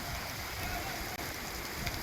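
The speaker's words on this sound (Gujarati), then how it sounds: "લાલપુર પંથકમાં ધોધમાર વરસાદની શરૂઆત" Heavy monsoon rain falls in Lalpur taluka of Jamnagar, Gujarat, a dense, steady hiss of rain on surfaces and running water, continuous throughout.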